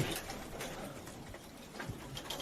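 Soft, steady cooing from racing pigeons inside a loft after a training flight, low and fairly distant, with a few brief louder notes over a constant airy background.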